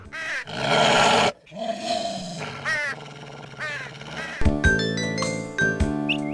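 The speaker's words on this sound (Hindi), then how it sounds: "उसने कौवे के ऊपर भौंकना शुरू कर दिया" A cartoon dog barks and growls in rough, loud bursts at a crow, joined by its harsh cawing, with musical tones rising near the end.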